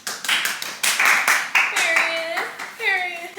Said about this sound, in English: First off, an applause for the shirt.